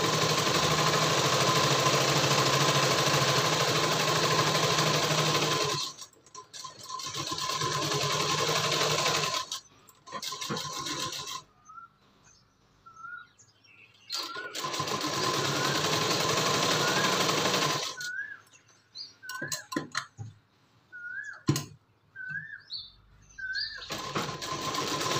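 A sewing machine stitches a blouse with a steady mechanical whir, running in several loud bursts of a few seconds each, separated by quieter pauses with light handling sounds.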